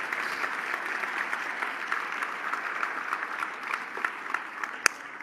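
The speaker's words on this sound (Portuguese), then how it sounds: "Aplauda Jesus, por favor." Sustained applause from a church congregation, a steady dense wash of clapping from many hands that holds at an even level throughout, with one sharper clap standing out near the end.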